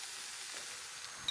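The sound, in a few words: ginger, garlic, onion and tomato sautéing in a pan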